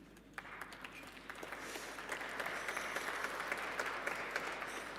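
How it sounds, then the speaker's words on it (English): An audience applauds, the clapping faint and distant at first, then swelling into a steady, dense patter of many hands that carries on to the end. "Thank you, brave applauders."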